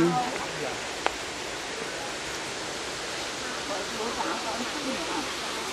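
Waterfall heard up close as a constant dense hiss and roar, with one brief knock near the start and no talk.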